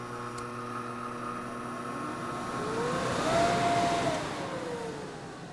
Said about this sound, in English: We're going to add the blower in